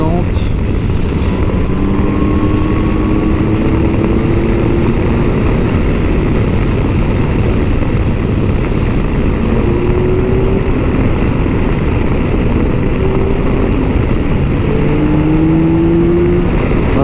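A Yamaha Tracer GT+ motorcycle engine climbing through the revs on the road, a continuous loud drone with rising pitch sweeps under heavy wind rush, recorded from the rider's position.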